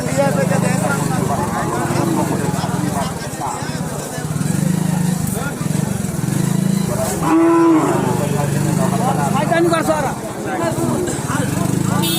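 Cattle low and moo at a livestock market near the India-Bangladesh border where Indian cows are sold cheaply, with one clear moo standing out over a steady din of crowd chatter and engine hum.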